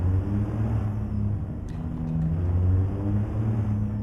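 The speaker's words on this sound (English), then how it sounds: "you just hear that engine spooling up as we go and pull out" A steady low engine drone rises gradually in pitch as a heavy truck spools up in the game American Truck Simulator, continuous and fairly loud with no voices.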